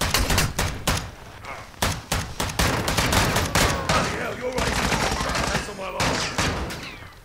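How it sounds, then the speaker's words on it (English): Repeated gunshots from a shotgun in the video game Call of Duty DMZ, loud, sharp blasts in rapid succession with short gaps, under occasional talk. "I'm gonna use your shotgun."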